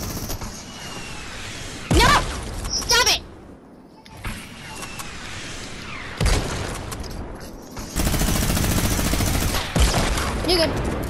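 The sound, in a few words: minigun firing in the Fortnite video game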